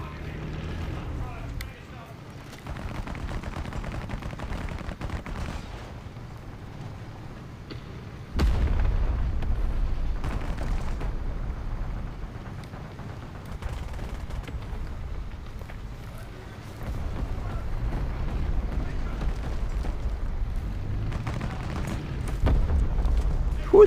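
Tank cannon fire and explosions in War Thunder Mobile with an M48A2 G A2 medium tank: a droning engine rumble broken by sudden heavy booms, with someone talking over much of it.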